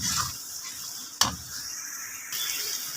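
Masala spice paste frying in a pan for aloo bhurji, with a steady soft sizzle broken by a sharp stirring scrape at the middle, alone with no talk.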